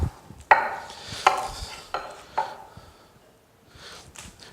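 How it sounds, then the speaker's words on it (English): A knife slicing through onion in a home kitchen for asparagus soup, about four distinct crisp cuts landing on a board at uneven intervals, close and clear, then quieter shuffling. "we're going to do some more slices of onion"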